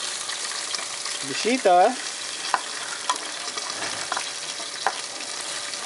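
Egg rolls being fried in a pan at home, a steady soft sizzle through the whole stretch with a brief stirring or scraping burst early on and a few light clicks, while a person says a word.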